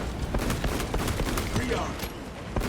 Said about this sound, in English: Launching frag grenade.